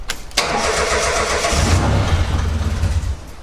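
A swapped engine in a Mitsubishi Mirage cranks briefly, catches and settles into a steady, rough idle, loud and close, with no one talking.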